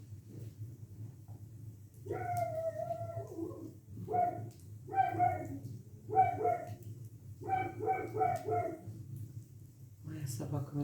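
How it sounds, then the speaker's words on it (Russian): A dog barks outdoors in a repeated series of yelping barks, moderately loud, over a steady low background hum, near a spring witch's bonfire ritual. "Моя собака нарушает тишину."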